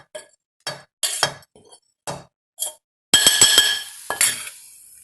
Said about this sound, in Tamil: இதை நல்லா மிக்ஸ் பண்ணி வச்சுக்கிறேன்